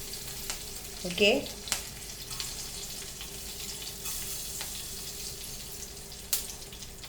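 Curry leaves and fenugreek (methi) seeds crackling in hot oil, a brief sharp sizzle burst followed by a low steady frying hiss, with a short spoken word heard near the start.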